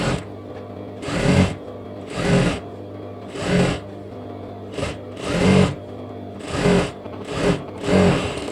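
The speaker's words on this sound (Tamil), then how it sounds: "நான் 1 இன்ச் அளவுக்கு துணி வந்து மடித்து ஒரு தையல் ஒன்று அடிச்சுக்கிறேன்" A sewing machine stitches a folded one-inch hem on lehenga skirt fabric in eight short, close bursts of rapid whirring, each about half a second long, separated by brief pauses.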